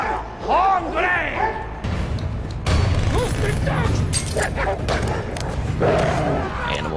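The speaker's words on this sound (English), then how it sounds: "we see these thugs using dogs as a form of intimidation" Dogs barking loudly and repeatedly in a movie scene where thugs use them for intimidation, mixed with shouting voices, crowd clamor and clanking mechanical noise.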